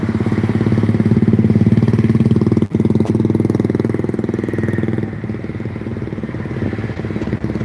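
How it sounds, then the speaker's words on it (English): Motorcycle engines on a street in the Philippines, a loud close steady rumble that eases slightly as it passes, with a brief clack partway through. "The guys driving motorcycles"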